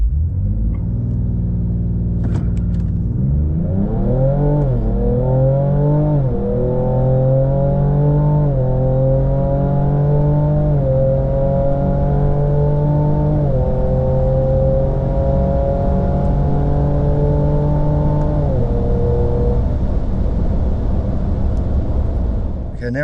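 A 2025 Ford Ranger Raptor pulls hard in sport mode with its exhaust in Baja mode, a loud close engine roar climbing through several gear shifts, then holding a steady drone under a faint voice.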